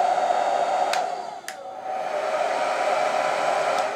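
Hair dryer running on its low setting, a steady close whooshing blow of air with a brief dip partway through and no talking.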